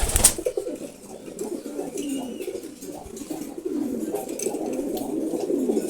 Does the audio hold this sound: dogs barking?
no